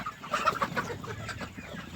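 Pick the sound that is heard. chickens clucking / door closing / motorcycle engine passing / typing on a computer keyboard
chickens clucking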